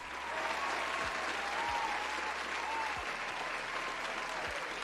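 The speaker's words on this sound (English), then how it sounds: "Let's give an applause for Dominic, guys" Steady applause for a guest on a trading livestream, an even continuous wash of clapping at moderate level with a few low thumps, held for several seconds without a break.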